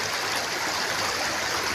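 Continuous rushing water of a river flowing toward the sea, a steady broadband wash with no pauses and no voices.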